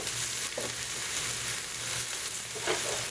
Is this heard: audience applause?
no